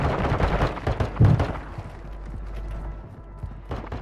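Rapid gunfire in Call of Duty: Modern Warfare II, a dense burst of shots in the first second and a half, then sparser scattered reports trailing off, with another short burst near the end.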